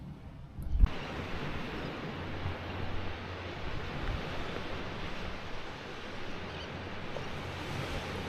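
Waves washing onto the beach at Anclote Key on a calm morning, a steady broadband wash of surf that starts abruptly after a short knock and continues alone without talk.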